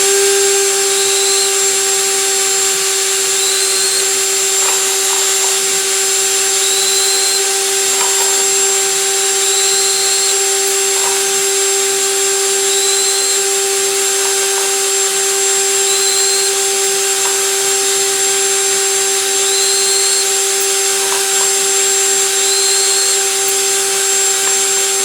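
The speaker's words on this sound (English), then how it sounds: "Now we can power deburr." A power drill spins to deburr rifle brass cases, giving a loud, steady motor whine that runs throughout, with faint, regular chirps as each case edge is worked.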